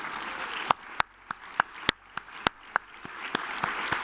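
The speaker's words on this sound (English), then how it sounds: "everybody's getting applause here" Scattered applause for Lions Clubs members standing at a state Board of Councilors meeting in Georgia; a handful of sharp, distinct claps ring out over a quiet room, sparse and irregular rather than a full ovation.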